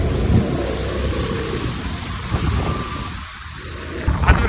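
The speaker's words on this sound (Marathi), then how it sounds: "जबरदस्त पाऊस आहे." Heavy monsoon rain roars steadily around a motorbike being ridden through a downpour, a dense continuous wash with rumbling low wind and engine noise and a few sharper splashes near the end.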